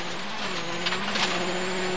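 Rally car driving fast in fifth gear over a rough road, its engine holding a loud steady high drone, with bumps and rattles rising through the middle, heard from inside the car.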